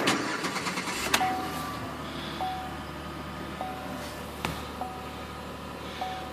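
A Chevy Impala from the 2006-2013 range starts after its battery is replaced: a short starter crank catches, then the engine settles into a steady, close idle hum with a few faint chimes and clicks.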